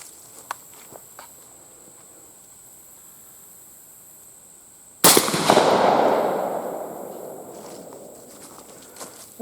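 A Browning Maxus II shotgun fires a single Heavy Hammer shell. A sudden loud blast comes after a few seconds of quiet outdoor ambience, and its echo fades over several seconds.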